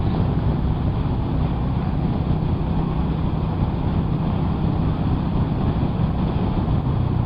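A Hero Hunk 440 motorcycle cruises along, its engine giving a continuous deep, low throb blended with rushing wind noise, steady and close with no talking.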